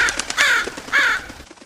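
A crow gives two loud, harsh caws close by, each a drawn-out rasping call, with fainter background sounds between them.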